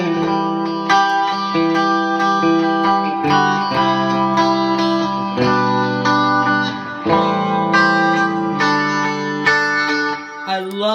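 An electric guitar played through a pedalboard reverb on a plate patch rings out sustained chords with a washy, lingering tail, steady and fairly loud throughout, with no talking.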